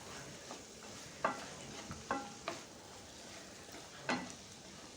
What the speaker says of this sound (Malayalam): ഇനി ഇതിലേക്ക് 1 തക്കാളി കട്ട് ചെയ്ത് കൂടി ഒന്ന് ഇട്ട് കൊടുക്കാം. എല്ലാം നല്ലതുപോലെ ഒന്ന് മിക്സ് ആക്കി കൊടുക്കാം.